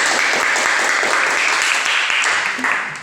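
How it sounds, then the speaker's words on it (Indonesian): Sustained applause from a crowd, steady dense clapping throughout that tapers slightly toward the end. "tepuk tangan sekali lagi untuk kelompok 1."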